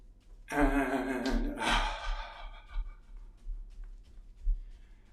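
A single deep breath, drawn in through the nose during a calm breathing exercise, rises audibly and fades, followed by quiet low hum.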